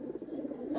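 High-flyer pigeons offered for sale coo softly nearby in a brief, low, rolling burst with no voices.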